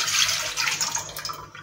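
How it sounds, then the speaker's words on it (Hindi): About a glass of water is poured into a cooking pot already holding cinnamon for Arabic coffee, giving a close, continuous splashing pour that trails off, with no voices. "इसमें एक गिलास जो है तकरीबन पानी ऐड कर लिया है।"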